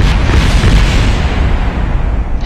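Rocket explosion in the space flight game Kerbal Space Program, a loud, dense rumbling blast that roars steadily and then slowly thins out, with no voices over it.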